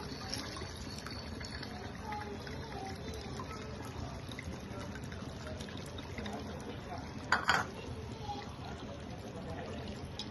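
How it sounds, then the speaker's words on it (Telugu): Tamarind water is poured into a simmering fish curry made with silavathi fish, giving a soft, quiet liquid splash and trickle with a brief louder burst of pouring partway through. "ఇప్పుడు చింతపండు పులుసు పోసుకుందాం మనం"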